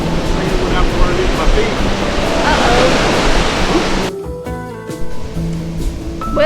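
Ocean waves washing onto a sandy beach at Long Point County Park in Melbourne, Florida, a loud, broad rushing surf for about four seconds that then drops off, leaving quieter background sounds.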